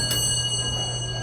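A Westinghouse traction elevator's bell chime in an office building in Milwaukee, Wisconsin: a single brief ding near the start over a steady low cab hum, fading quickly.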